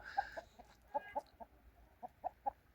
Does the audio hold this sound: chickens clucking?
yes